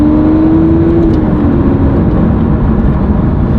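Lamborghini Aventador SV supercar engine driving, a loud, steady roar that rises briefly in pitch early on and then settles into a constant drone with no talk.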